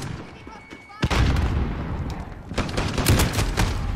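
Rapid video game shotgun blasts in an online shooter, a sharp burst then repeated loud booming shots in quick succession, close and dense, with speech faintly underneath.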